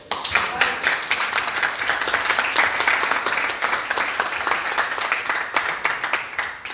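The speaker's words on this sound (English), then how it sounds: "big applause, please" A networking event audience at a premium coworking space applauds after a pitch, steady dense clapping throughout with some voices mixed in.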